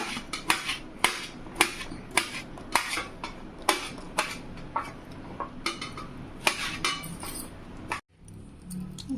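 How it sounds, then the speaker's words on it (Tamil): A knife chops mushrooms finely on a board in a kitchen, sharp irregular taps repeating quickly for several seconds, then a brief pause before cutting resumes, close and fairly loud, with no talking. "இது பொடிசாகவே கட் பண்ணிக்கலாங்க"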